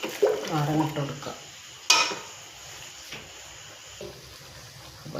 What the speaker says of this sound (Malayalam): അപ്പോൾ നാരങ്ങ ഇട്ട് കൊടുക്കുക.